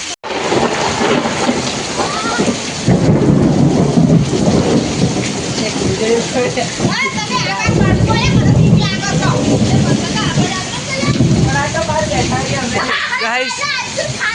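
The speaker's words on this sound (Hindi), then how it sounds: "પેલા ખૂણામાં એક વીજળી પડી અને બાપુ તો ગાઈસ જો કેટલો વરસાદ પડ્યો" Heavy rain pours steadily during a thunderstorm with lightning, loud and close, while children shout and talk over it.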